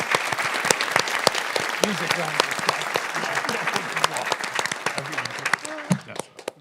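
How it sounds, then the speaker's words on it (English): Audience applauds quiz show teams at the close of a live broadcast quiz show marking a birthday celebration, scattered claps with a talking voice running over them and trailing off near the end. "Can we give a big round of applause for both these teams?"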